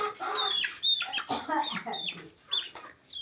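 Chickens clucking close by in a backyard setting, a series of short, irregular clucks and squawks with brief gaps between calls.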